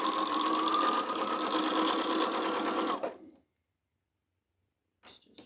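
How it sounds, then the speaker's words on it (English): A sewing machine stitches a seam in fabric with white thread, running in a steady close-up whir for about three seconds before stopping. Brief faint clicks follow after a pause. "Now I've got my regular white sewing thread on the bobbin and the top of the machine, because now we're sewing a seam."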